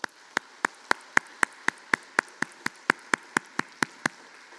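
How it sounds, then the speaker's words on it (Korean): Clapping from a church congregation at an anniversary Sunday service, heard as sharp, evenly spaced claps in a steady rhythm, about seventeen in a row, fairly faint and with no talking over them. "우리 그동안 수고하신 모든 분들, 우리 연세 많으신 분들, 우리 그분들에 대해서 박수하시기 바랍니다."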